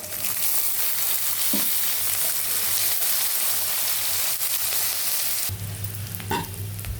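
Mustard seeds, cumin and chana dal frying in oil for upma, with onions going in, give a steady close sizzle with crackles throughout and a louder burst of frying near the end.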